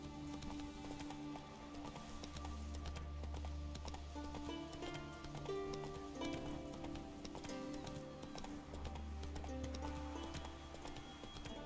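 The horse Roach trotting in The Witcher 3 on Skellige, a steady rhythmic clip-clop of hooves at moderate distance, layered under continuous ambient music, with no speech.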